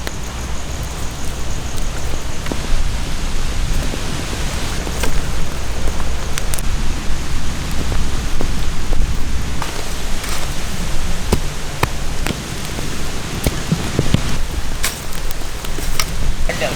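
Steady rain falling outdoors in a village while a giant glass trevally fish is grilled over an open fire, a dense continuous hiss with scattered louder drops and knocks throughout, no talk.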